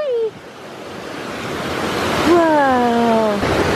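A waterfall rushes with a steady, loud broadband roar that swells slightly over time, while voices call out briefly over the water.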